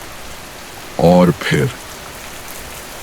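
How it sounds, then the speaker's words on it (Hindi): Steady rain falls through the night around a cottage, a constant hiss in the background while a voice speaks briefly over it. "बारिश का शोर और तेज होता गया।"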